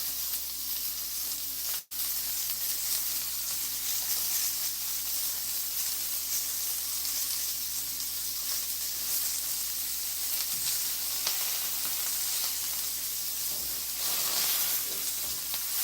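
Duck meat sears in a hot pan for a traditional-style Irish stew, a steady close sizzle and hiss running almost unbroken, with one brief dropout near the start.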